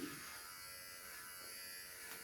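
A Dingilg electric shaver cutting hair, a faint, steady high buzz heard up close and continuously with no talk over it.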